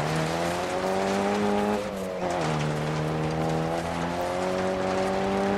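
Rally car in the Dirt Rally video game racing over packed snow in Sweden, its engine droning loudly with rising and falling revs through gear changes, a brief dip in the middle, continuous and close.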